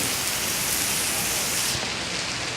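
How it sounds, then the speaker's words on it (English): Heavy rain in a severe storm, a dense, steady roar of rainfall pouring continuously with no breaks or voices. "I'm just filming the rain."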